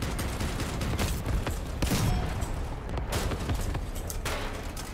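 Dense, continuous gunfire from armed vehicles in the combat game Crossout, overlapping rapid shots and bursts with heavy low thuds, loud and sustained with no talking.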